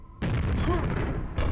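A grenade detonates in the video game Quake, a sudden loud boom that rolls on briefly and is followed by a second burst near the end.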